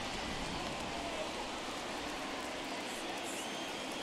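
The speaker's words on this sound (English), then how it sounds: "it's raining like a motherfucker" Rain falls in a steady, dense hiss in the video game MLB The Show 21, a continuous broadband wash with no speech over it.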